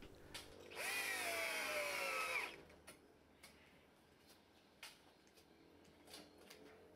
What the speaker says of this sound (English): hex driver bit in a slow rotating drill and proceed to screw in the countersunk timber inserts